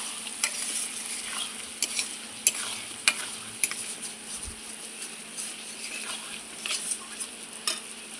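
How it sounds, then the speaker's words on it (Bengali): Mutton is stir-fried in a pan for curry, with a constant loud sizzle and regular scraping strokes of a spatula stirring through it. "খুব করে মাংসটাকে এখন আমি কষিয়ে নেব।"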